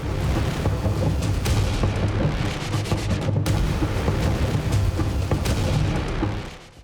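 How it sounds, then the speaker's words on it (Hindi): Artillery shelling in Ukraine: a continuous heavy rumble of booming blasts rolls on without pause for the whole stretch, loud and dense, then eases off at the very end. "तोपों से गोलों की बारिश हो रही है।"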